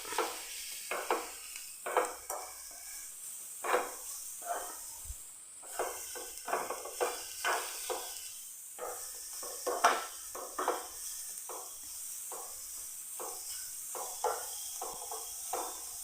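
Sugar melting into caramel is stirred in a pan on the stove, giving soft scraping and stirring strokes against a faint steady hiss, with quiet clinks of the utensil throughout.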